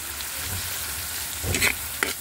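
Butter with onions and garlic frying in a pan, a steady close sizzle with a few brief stirring scrapes and clatters near the end.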